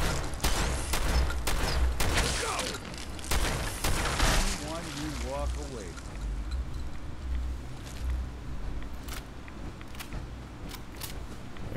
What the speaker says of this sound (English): I'm gonna use my shotgun instead.